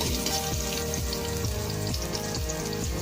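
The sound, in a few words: garlic sautéing in a pan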